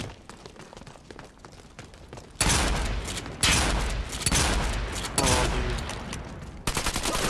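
Shotgun blasts in the shooter game Dirty Bomb, a few loud, heavy booms spaced a second or so apart, each with a short rumbling tail, after a quieter stretch of game noise.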